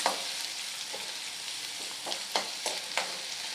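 Onion frying in a pan for a dhaba-style whole masoor dal curry, a steady close hiss with a few light scrapes of stirring.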